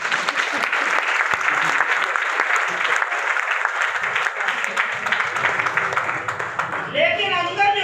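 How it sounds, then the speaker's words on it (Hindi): Steady, loud applause from an audience at a group gathering, dense clapping held for several seconds before a voice starts speaking over its tail. "तालियां बता भैया के लिए।"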